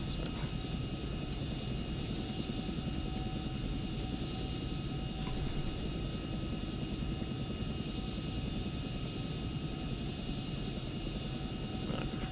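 A Chinook helicopter in a flight video game makes a loud, continuous rotor and engine drone that stays constant for the whole stretch, with no voices.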